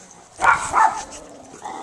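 A dog barks twice in quick succession, close and fairly loud, with a short whimpering tail before a faint steady tone rises at the end.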